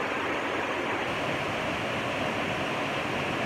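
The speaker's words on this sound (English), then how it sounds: "we've had a lot of rain, so the water is really flowing" A rain-swollen stream rushes loudly and steadily, a dense, unbroken roar of flowing water close by that stays alone throughout.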